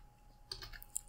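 Keystrokes on a computer keyboard while entering a short phrase into a graphic design program, a quick burst of light clicks in the second half after a quiet start.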